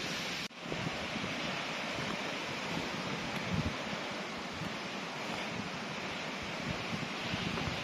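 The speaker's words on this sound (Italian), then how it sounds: "adesso vi faccio vedere la cascata" A waterfall beside a lake in the wild roars as a loud, steady rush of water mixed with wind buffeting the microphone, continuous from start to finish after a brief dip at the very beginning.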